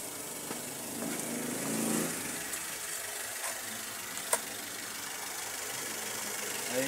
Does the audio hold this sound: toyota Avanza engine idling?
yes